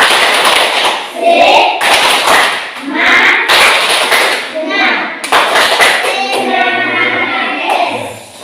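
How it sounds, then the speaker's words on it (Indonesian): A group of schoolchildren in a classroom performs the Indonesian 'tepuk semangat' spirit clap, rhythmic bursts of hand claps and taps close by, mixed with children's voices chanting along. "Pak Guru minta kita berdiri untuk kita tepuk semangat"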